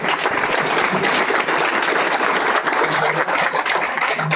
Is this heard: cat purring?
no